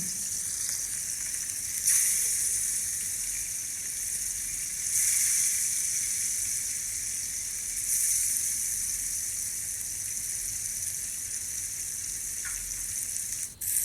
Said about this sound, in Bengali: তারপর মাছগুলোকে এক এক করে তেলে দিয়ে দিলাম